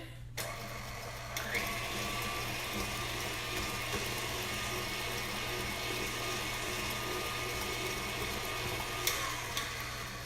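An older electric stand mixer runs steadily while mixing coconut cake batter, producing a constant low mechanical whir with a faint rattling texture throughout.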